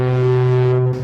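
Ghana emergency alert system alarm, a loud, deep horn-like tone resembling a foghorn or ship horn, held steady for about a second with rich harmonics and no speech.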